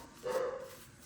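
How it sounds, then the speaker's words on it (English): A dog barks in the background, somewhere away from the microphone. A single muffled bark sits over faint room noise, with no talk heard. "If you can hear that barking in the background"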